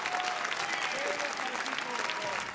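An audience at a Cannes film premiere screening for a Nuri Bilge Ceylan film applauds with steady, sustained, dense clapping from a large crowd, with a voice talking over it.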